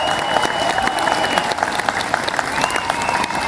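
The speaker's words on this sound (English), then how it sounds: "So I think we deserve an extra special big round of applause for" A crowd claps steadily in dense applause for a doctor at a gathering, continuous many-handed clapping throughout with a faint high tone running beneath.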